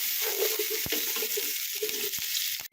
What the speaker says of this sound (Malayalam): അതൊന്ന് വഴറ്റുകയാണ്.